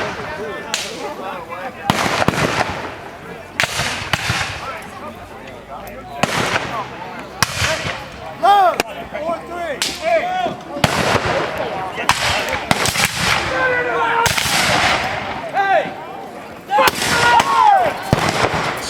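Gunfire at a Civil War battle reenactment, the 2013 Battle for Lamoni: repeated loud, sharp bangs in irregular bursts, some close together, with crowd noise and voices mixed under them throughout.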